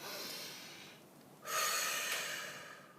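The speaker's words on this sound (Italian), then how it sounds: "facciamo un bel respiro profondo" A deep breath drawn in slowly and let out again, close and fairly quiet, with a brief pause before a louder, breathy exhale that fades away. No one speaks.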